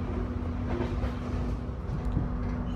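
A passenger train rolls into Cirebon station in Indonesia, a continuous low rumble with a faint steady hum and a few light knocks, heard from on board.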